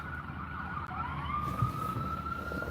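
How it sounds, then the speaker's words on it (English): A siren wails steadily at a distance, its tone gliding slightly, over a low rumble of background noise. "It's actually probably an ambulance."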